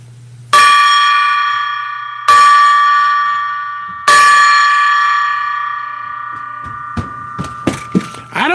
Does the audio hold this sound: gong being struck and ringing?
yes